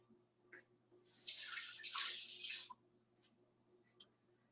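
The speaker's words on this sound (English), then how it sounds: "I'm gonna rinse off this spoon" A spoon is rinsed under a running kitchen tap: a single short burst of flowing water lasting about a second and a half, surrounded by quiet room tone and a few faint clicks.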